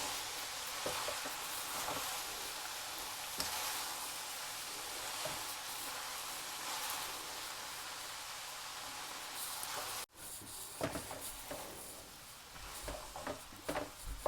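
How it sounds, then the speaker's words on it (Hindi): Maggi noodles being stir-fried with chicken and vegetables in a pan: a continuous close sizzle with scraping stirs, a brief dip, then busier spatula clatter and hissing. "नूडल्स को हमने अच्छी तरह चिकन और वेजिटेबल में मिक्स कर लेना है।"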